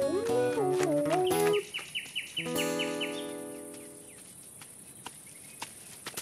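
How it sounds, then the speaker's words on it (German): A cartoon bird chirps in a quick series of bright, high tweets, with busy musical sound effects and light tapping around it and no talk over it. "Komm zurück, du dummer Vogel!"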